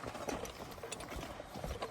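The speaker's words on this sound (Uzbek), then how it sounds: "sinovdan o'tgan, chopib yurgan otlar" Faint, rapid hoof clip-clops of stallions patter along at a quick pace, somewhat distant beneath outdoor background noise.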